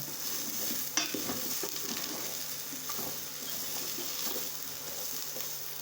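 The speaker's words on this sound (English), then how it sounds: "stay tuned while I cook up my corn" Corn cooking in a pan, heard as a soft, steady sizzle with occasional stirring scrapes and one brief clatter near the start, fairly quiet and close, with no voices.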